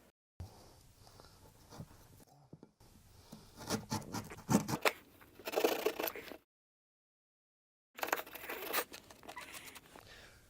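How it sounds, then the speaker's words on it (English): Drywall saw sawing an opening in drywall just above base molding, bursts of scratchy rasping strokes with short pauses and a silent gap, close and moderately loud. "What you want to do with your drywall saw is cut down from the top of the molding"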